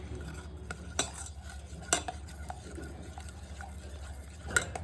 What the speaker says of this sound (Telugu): ఒకసారి ఇది బాగా కలిపేసుకోవాలి